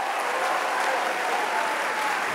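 Applause from a church congregation during a worship service, steady and dense clapping filling the space evenly throughout, with no breaks or single claps standing out.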